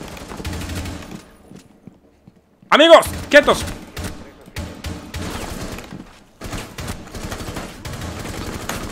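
A burst of sharp gunshots rings out in Rainbow Six Siege, then scattered shots and crunchy impacts continue under someone shouting over the game action.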